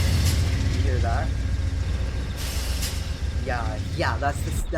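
Train air brakes in a train video game hiss and squeal in short bursts over a constant engine rumble, with a person talking at the same time.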